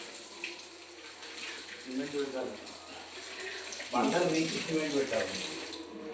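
Water runs steadily in a splashing hiss, pouring onto a floor, with people talking over it.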